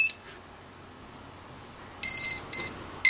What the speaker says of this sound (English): Plug it in. There's our beep.